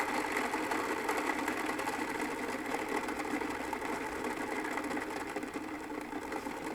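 Skateboard wheel with bearing spacers spinning freely on its axle, a steady, even whir with faint rattle that holds at constant loudness close by and fades only slightly over several seconds, with no speech.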